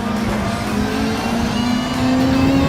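A race car engine in Gran Turismo 7 at Catalunya holds a loud, sustained high drone, pitch climbing slowly under acceleration during a close battle for first place, with no talking.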